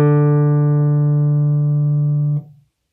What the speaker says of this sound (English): So when you want a loud sound, you're going to depress the string more.